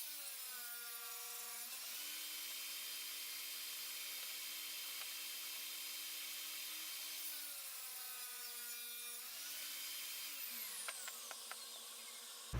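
A power saw trimming oversized pieces off a wooden mallet head, with a steady high whine that drops in pitch under load during two long cuts and spins down at the end.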